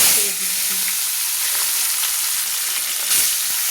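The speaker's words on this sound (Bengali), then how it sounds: "মাছগুলোকে আমি ভেজে নেওয়ার জন্য আমি তেলে ছেড়ে দিলাম" Small mourola fish frying in hot oil, a steady loud sizzle with crackling and brief stirring clatters, no voices.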